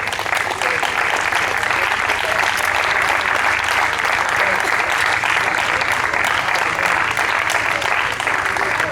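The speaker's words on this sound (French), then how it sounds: "je vous demande d'applaudir très fort" Loud, dense applause from an audience at a trophy presentation for the winners of an international tournament in Aix, steady and sustained throughout with no talk over it.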